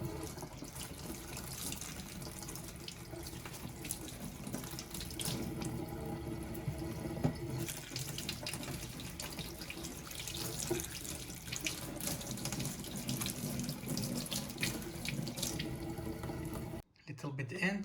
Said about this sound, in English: we need to wash mushrooms properly